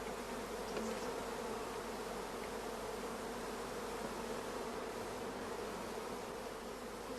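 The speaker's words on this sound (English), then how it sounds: "in the queenless starter colony, we can hear the loud buzzing of the orphan bees" Queenless orphan honey bees in a starter colony hive give off a loud, dense, unbroken buzz that holds steady throughout, with no voices.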